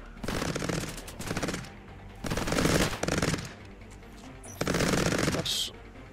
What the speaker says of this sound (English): Place that turret. Thank you. This turret is doing work.